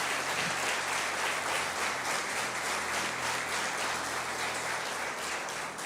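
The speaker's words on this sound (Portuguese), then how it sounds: "Vamos aplaudir ao Senhor Jesus por essa história." A congregation applauding in a church service, steady and dense clapping that holds at an even level throughout with no talk over it.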